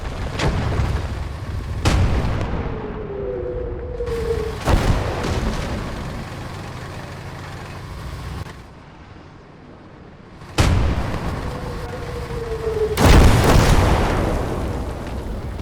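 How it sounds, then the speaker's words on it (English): Enemy artillery barrage in Gates of Hell's Airborne DLC, Hell's Highway mission: several heavy booms land at irregular intervals, each a sharp loud blast trailing into rumble, with quieter battlefield noise between. "The enemy artillery shows no mercy."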